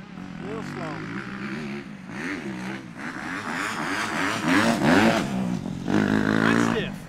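A Suzuki racing motorcycle engine revs and pulls through rising and falling pitch sweeps, growing louder toward the end, while a person speaks over it.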